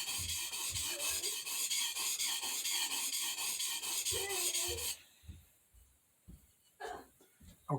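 A knife blade strokes back and forth on a cheap Amazon water stone in a quick, regular rasping rhythm, close and loud, then stops and gives way to a few scattered taps and handling noises.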